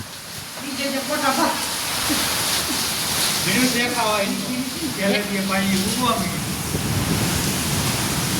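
Steady rain pours down as a constant broad hiss throughout, with voices talking over it.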